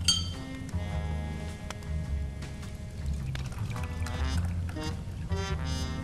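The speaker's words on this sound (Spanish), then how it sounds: "vamos a meter dos leches vegetales a partes iguales" Coconut milk and soy milk are poured in equal parts into a coffee maker for spiced hot chocolate: a steady liquid pour with light clinks of glass or metal, close and fairly quiet.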